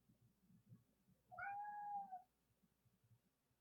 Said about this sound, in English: The tavern cat is really loud.